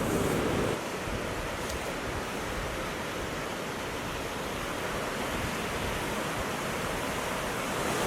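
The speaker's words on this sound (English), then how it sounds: "this spot behind me, it's a little surf break." Surf breaking at the Careneros island surf break, a dense continuous roar of waves with a louder rush at the start, heard alone with no talking.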